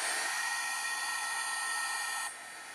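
Heat tool running steadily to dry wet ink on a handmade stenciled card, a continuous close whirring hiss that drops in level near the end, with no talking.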